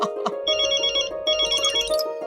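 A phone ringtone plays nearby, a bright electronic melody with sustained tones repeating in two phrases.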